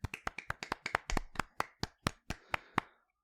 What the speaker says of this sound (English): And so let's get a round of applause.